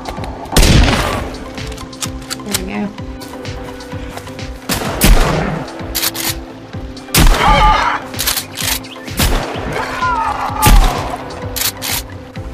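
Gunfire in the survival game Sons of the Forest cracks out in several loud, close bursts of shots with gaps between them, alongside faint game ambience.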